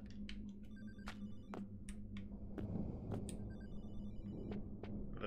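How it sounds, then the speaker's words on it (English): In the horror game Hollowbody, a telephone rings faintly in repeated electronic bursts, set among sharp clicks and a low rumbling ambience. "The phone."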